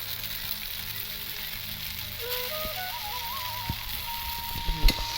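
Boiled pasta tipped into a frying pan for an egg pasta dish, a steady sizzle with a few clattering knocks near the end; a faint tonal whine runs through the middle.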